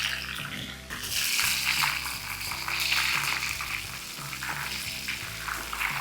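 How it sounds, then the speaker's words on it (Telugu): Prawns frying in hot oil for pepper garlic crispy prawns, a steady dense sizzle with bubbling crackle running the whole time, close and fairly loud, with no talking. "మన మిగతా రొయ్యలు కూడా ఫ్రై అయిపోయాయి"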